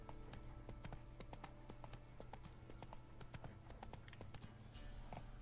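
Roach the horse trots steadily in The Witcher 3, a continuous run of clip-clop hoofbeats over a low ambient game soundscape.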